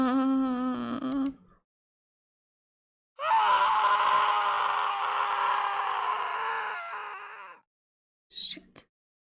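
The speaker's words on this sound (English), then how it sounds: "As I scream, another me looks down from above." A Steins;Gate video game character screams in despair: a short anguished cry, then a long, loud, sustained scream that fades, followed after a pause by a brief final whimper, with no other sounds.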